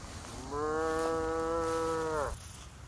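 A cow in a grassy field gives a single long, droning moo of almost two seconds, loud and fairly close, with no talking.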